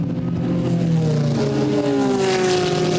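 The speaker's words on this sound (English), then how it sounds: "Eric Bernard continued Gounon's good work in the 28 Ferrari." A Ferrari sports racing car's engine is heard on track, with a steady loud drone and a rising, shifting whine as it accelerates, close and continuous, with no talking.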